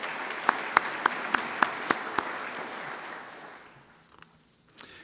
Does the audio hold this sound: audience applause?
yes